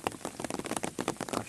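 Late-afternoon rain falls steadily on a rural farm, with dense, close pattering drops hitting a surface and no talking.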